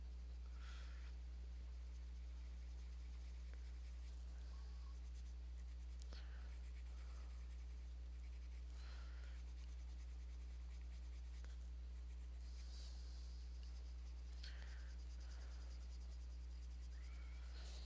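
Colored pencil shading gray onto paper, filling in a drawn white shirt and hands, gives faint, soft scratchy strokes in short bursts over a steady low hum, with no talking.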